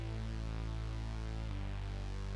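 Synth bass played dry, without any Micro Shift widening, a quiet but full sustained low tone that drops to a new note about halfway through, heard alone.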